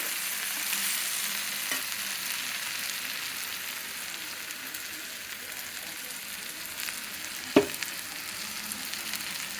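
Stuffed eggplant curry with tamarind pulp sizzles steadily in a pan, a continuous frying hiss broken by a couple of sharp stirring clinks.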